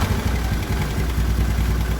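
A motorcycle engine with a faulty charging system runs close and loud, with a steady, rhythmic throb and clatter that stays unbroken throughout.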